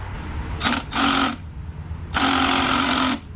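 A power tool, likely an impact wrench, working on a stuck bolt on a first-generation Honda CR-V B20 engine: two loud buzzing rattling bursts, the first short and the second longer, close to the mic with a quiet pause between them.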